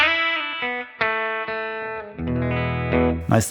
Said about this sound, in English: Mostly, I just use this for a spring reverb like I would have in my amp